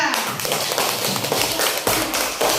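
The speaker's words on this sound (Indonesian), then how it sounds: "Ya, tepuk tangan untuk kelompok 3" A class of schoolchildren clapping for a group in the classroom, a continuous dense rattle of many small hands with occasional sharper accents, fairly close and loud throughout.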